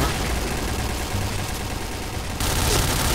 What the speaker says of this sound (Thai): กูต้องมายิงกำแพงอีกเหรอเนี่ย